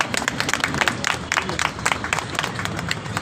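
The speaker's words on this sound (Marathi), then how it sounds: "जोरदार टाळ्या होऊन जाईल" Audience applause at a chocolate shop's inauguration event, a dense patter of many hands clapping steadily for a few seconds at moderate volume, with no speech over it.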